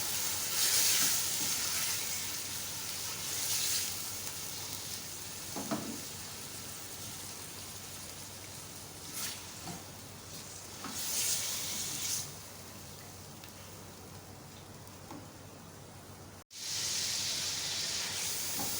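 About half a kilo of minced meat fries in a pan with a steady, close crackling sizzle, broken by occasional soft scrapes and stirring knocks.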